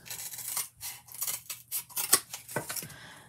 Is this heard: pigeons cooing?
no